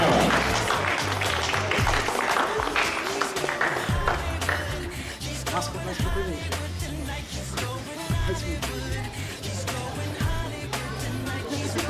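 Audience applauding at a children's event in Poland, a ŚLS Zagłębie 2013 gathering; scattered, uneven clapping rises and falls over about twelve seconds in a reverberant room, with some crowd murmur and brief voices mixed in.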